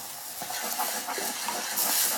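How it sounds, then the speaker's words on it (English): Barbecue sauce with onions starting to boil in a pot on a stove, a steady close hiss and bubbling simmer with soft irregular pops throughout. "I'm going to put it over here in my pot with my barbecue sauce. See, it's already beginning to boil some."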